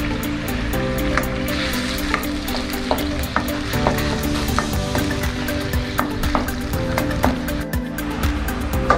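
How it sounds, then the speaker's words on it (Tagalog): Garlic sautés in the same pan used to fry beef for Filipino bistek, with a steady, loud sizzle and crackle and occasional stirring clicks throughout. "Magigisa tayo ngayon ng bawang."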